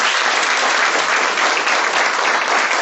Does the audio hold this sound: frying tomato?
no